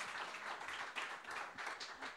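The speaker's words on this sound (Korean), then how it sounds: "나오실 때 우리 큰 박수로 맞이하겠습니다." Congregation at a Presbyterian church all-generations service applauding a missionary coming forward, soft uneven clapping from a crowd with a few distinct louder claps, heard from a distance.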